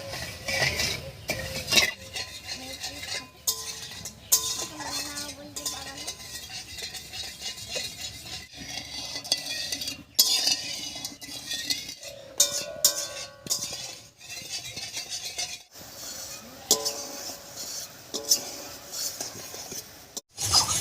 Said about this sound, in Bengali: এবার চিনিটাকে গলিয়ে একটু শিরার মতো বানিয়ে নেব।